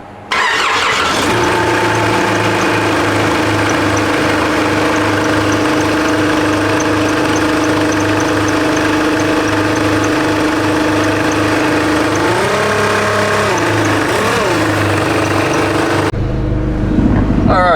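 Supercharged Nissan Patrol ZD30 diesel engine idling steadily and loud close by, a low even rumble with a brief rev swell near the end before it cuts off.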